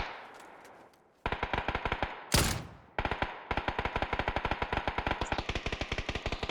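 Suppressed gunfire in a video game: long rapid automatic bursts of muffled, regular shots, close and steady, broken by a brief pause and a louder whooshing blast.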